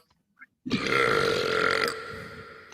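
Peter Griffin, the Family Guy cartoon character, lets out one long, loud, rumbling burp lasting over a second, after a brief quiet click, with no talking.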